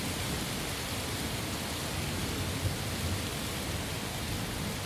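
Heavy, steady rain pours down over a ruined, overgrown city, a dense continuous hiss with a low rumble of thunder beneath, unbroken and enveloping throughout.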